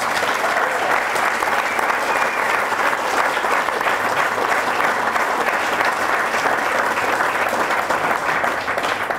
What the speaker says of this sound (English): give the members of the top 25 a big round of applause